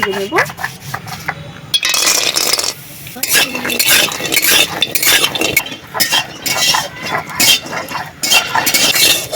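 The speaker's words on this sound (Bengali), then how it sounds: "বড়িগুলো ভাজা হয়ে গেছে" Bori lentil dumplings fry in mustard oil in a kadai on a village stove, with loud uneven scraping, metal clinks and stirring over an underlying sizzle, punctuated by short gaps.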